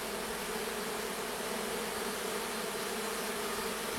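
Small honeybee swarm being shaken into a Japanese hive outdoors, a faint, continuous buzzing hum of many bees, steady and even throughout with no voices.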